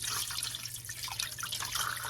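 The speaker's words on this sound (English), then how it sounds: "I'm gonna fill this up with water" Water from a jar pours and trickles into a cooking pan, a soft, continuous splashing and dribbling heard up close, quiet and alone.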